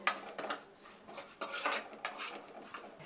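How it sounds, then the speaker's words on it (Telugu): Quiet metallic scraping and clinking as a spatula stirs cumin seeds roasting dry in a pan, in short, irregular strokes. "మంచిగా వేగే వరకు జీలకర్రని తిప్పుతూనే ఉండాలి."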